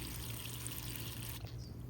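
Water flushes through a cactus watering system, flowing with a steady rushing trickle that cuts off shortly before the end.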